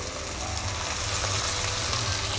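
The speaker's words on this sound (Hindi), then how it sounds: "इसको भी थोड़ी देर भून लेते हैं।" Ginger garlic paste fries in a hot pan, a loud, steady, close sizzle that runs unbroken throughout with no talk.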